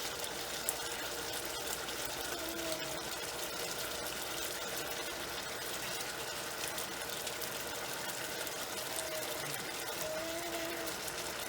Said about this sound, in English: As you can see, the curry is bubbling.